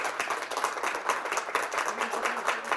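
Applause at a Mexican legislative press conference, a run of dense, quick hand claps from a room of attendees filling the moment at steady moderate loudness.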